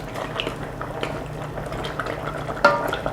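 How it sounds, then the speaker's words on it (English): Kimchi stew with pork and tofu is stirred in a simmering pot, giving soft liquid sloshing and bubbling close by, with a low steady hum under it and one sharper clink near the end. "And then let's stir."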